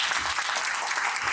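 A short burst of dense, steady clapping from an audience at a STEM discussion panel event, loud and even throughout with no voices over it.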